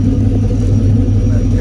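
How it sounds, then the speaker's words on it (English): A VW Squareback engine idles with a couple of noisy lifters, producing a loud, close, steady low rumble with a faint ticking texture throughout. "Got a couple lifters that are still making noise"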